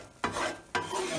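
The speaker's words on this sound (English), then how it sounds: "And you just keep stirring" Mushrooms, onions and garlic stirred in a pan for pork chops, two quick scraping strokes over a soft sizzle, close and fairly quiet.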